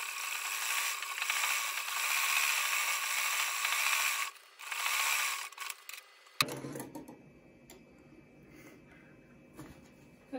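A sewing machine stitches a female trouser seam freehand, a steady mechanical whir running for several seconds before stopping, followed by quieter clicks and handling noises.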